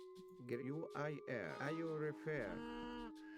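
Cows in Age of Mythology Retold let out a few drawn-out moos in quick succession, clear and fairly close, with nothing else around them.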